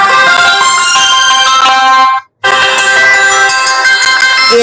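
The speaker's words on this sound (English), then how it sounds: "In the order that Toydos UK set it in, which goes startup, D jingle, ringtone version, SMS, then alarm, then shutdown." A set of phone system tones, with startup and shutdown jingles, a ringtone, an SMS alert and an alarm, plays loud and bright. Steady melodic chimes run throughout, broken once by a brief silent gap before the next tone begins.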